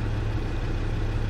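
A Land Rover Discovery 2 diesel engine idles steadily during a cylinder balance check, a constant close low rumble with no revving and no speech.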